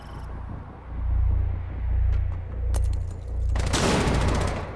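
Gunfire and booming bursts in a tactical shooter video game match, loud and sustained over a rolling low rumble, with a sharp burst of brighter shots near the end.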